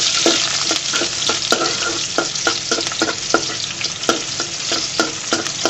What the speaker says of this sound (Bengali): দিয়ে পেঁয়াজগুলোকে সুন্দর করে ভেজে নেব।